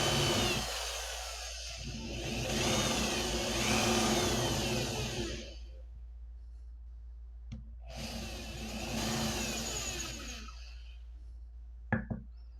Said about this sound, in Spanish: busco una barrena o broca que tenga un diámetro mayor a la cabeza del tornillo que hemos utilizado, la coloca en tu mandril, aprieta